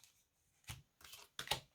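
Tarot cards are shuffled and drawn in a few brief soft riffling bursts, close and quiet against near silence.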